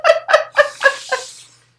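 A human voice imitates a chicken clucking, giving five quick, loud, evenly spaced nasal clucks that fade out over about a second and a half.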